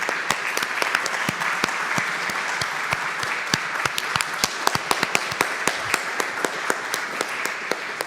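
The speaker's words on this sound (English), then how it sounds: "So I think it's time to give them applause." A conference audience applauds its tech team at a music psychology event, with steady, dense clapping that fills the whole stretch at an even level and no talking.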